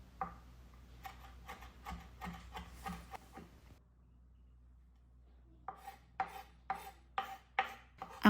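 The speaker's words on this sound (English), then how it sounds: "chop up some parsley" A knife chops parsley on a board in quick, close, crisp taps, a run of rapid strokes, a short pause, then another series of sharper chops, with no talking.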